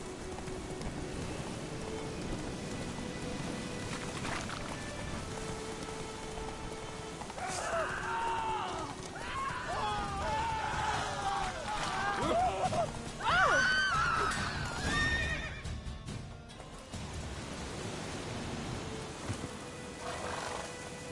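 Roach, the horse in The Witcher video game, whinnies in a series of high, wavering neighs midway through, over a steady rain-like wash of ambient noise.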